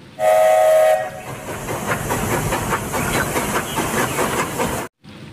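Locomotive train sounding a loud steam-style whistle blast at the start, followed by steady hissing and chugging rail noise that runs for several seconds before stopping abruptly.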